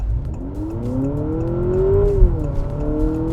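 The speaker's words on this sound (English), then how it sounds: "Bit of sporty engine noise. And also, did you hear the gear changes?" A 2024 Honda Accord RS Hybrid revs up under acceleration, its pitch climbing then dropping sharply at a simulated gear shift before climbing again, a smooth synthetic-sounding drone heard from inside.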